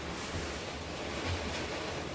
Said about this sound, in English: it is cold and windy and raining